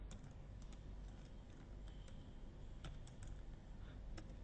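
Fingers type on a computer keyboard in light, scattered clicks, faint against a steady background hiss, with no voice present.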